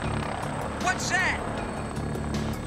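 A steady helicopter drone hums in the background while voices call out briefly over it.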